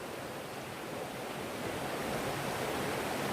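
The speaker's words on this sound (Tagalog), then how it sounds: "Baka hindi marinig yung boses ko kasi ang lakas ng ng agos ng tubig" Strong river current rushing loudly through a forested spot: a dense, steady roar of water that holds constant and close, with no voices over it.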